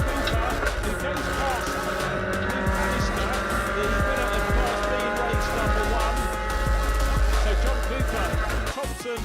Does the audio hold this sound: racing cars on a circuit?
yes